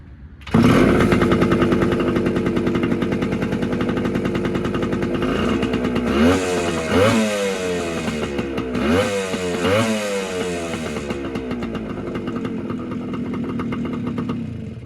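Suzuki TC motorcycle engine running on premix fuel, loud and close, a steady two-stroke buzz with throttle blips that rise and fall over the middle stretch before settling back to a rough idle.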